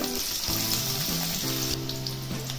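Onion goes into hot oil with mustard seeds and cumin for a mixed vegetable Kolhapuri, producing a dense continuous sizzle with a few clanks and bubbling spatters, close and steady throughout.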